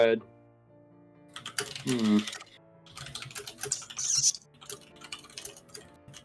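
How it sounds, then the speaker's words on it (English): Someone typing on a computer keyboard in bursts of rapid clicks between pauses, close and fairly quiet, with a voice briefly heard. "angrily typing"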